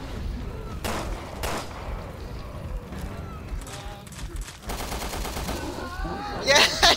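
Sharp gunshots fire in a Resident Evil co-op video game, a few spaced bursts over busy game noise, with excited voices nearby.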